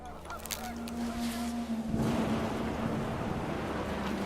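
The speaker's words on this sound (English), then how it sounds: "panicked geese appeared and quickly went" Geese honk in a flurry over a steady rushing background of wind and surf during a hurricane in the video game What Remains of Edith Finch, the calls brief and blending into the noise.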